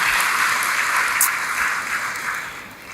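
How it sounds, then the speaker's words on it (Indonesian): Church congregation applauding together, a dense, loud wash of clapping that holds steady and then tapers slightly toward the end. "tepuk tangannya boleh yang paling meriah buat Yesus Tuhan kita"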